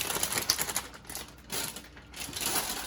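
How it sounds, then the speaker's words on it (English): Dry noodles pour from a bag into a pot of chicken soup, making a rattling, clattering patter that runs nearly three seconds and swells and dips as the stream changes, with no talking. "I'm gonna pour in my bag of noodles."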